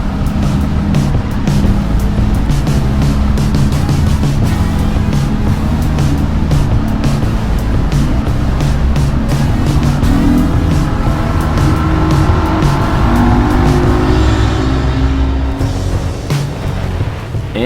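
Motorboat Island Hopper running through calm Gulf water with a one-foot surf, its engine a loud steady drone with continuous hull and water rush throughout.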